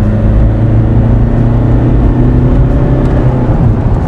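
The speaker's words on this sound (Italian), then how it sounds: "Guardate come riprende anche a marce basse" A Fiat Multipla engine pulls steadily in a low gear, giving a loud, continuous, close drone with a smooth, unbroken hum and no voices.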